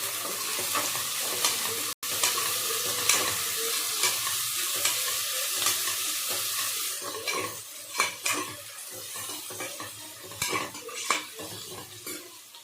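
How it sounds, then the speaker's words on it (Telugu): Ginger garlic paste being stirred in a hot pan, giving a steady close sizzle with the scrape and clink of a spoon against the metal and louder stirring scrapes in the latter half. "అల్లం వెల్లుల్లి పేస్ట్ వేసి బాగా ఒకసారి కలపండి."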